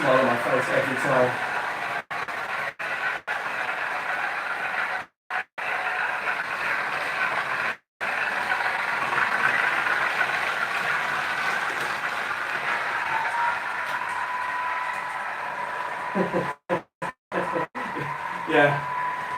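Model Class 50 diesel locomotive sound at a live train-running session, a steady droning engine rumble held throughout with brief dropouts, while a voice talks over it.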